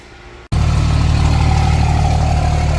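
A Cummins diesel truck fitted with a Dynovox 5-inch stainless steel exhaust starts up after a brief quiet moment, then settles into a loud, steady, deep idle rumble close by.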